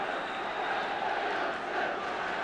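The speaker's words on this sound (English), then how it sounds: "Well, that's got the crowd going. Tremendous atmosphere at Stamford Bridge." A football crowd roaring at Stamford Bridge during a 1970s Chelsea match, a steady, dense wash of cheering and chanting that holds at an even level throughout without distinct peaks.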